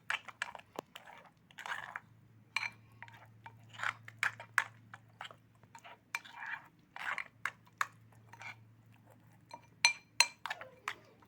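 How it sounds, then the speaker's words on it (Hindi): A spoon stirs and scrapes through a yogurt-based chicken marinade in a bowl, giving soft irregular clinks and wet taps at close range with a low hum underneath. "अच्छे से मिक्स कर लेंगे।"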